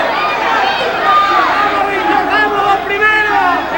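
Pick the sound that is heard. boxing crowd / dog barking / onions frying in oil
boxing crowd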